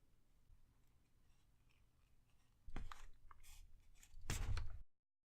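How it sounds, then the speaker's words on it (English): Scissors cut through a plastic G2 grip ring in a quiet room: a couple of sharp snipping crunches close to the microphone, the last one louder, after faint background hiss. "Take your G2 grip and cut off 5 rings."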